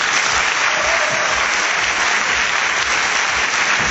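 Audience applause at a press conference for Thailand's Got Talent Season 5, dense, steady clapping that stays loud and even throughout with no break.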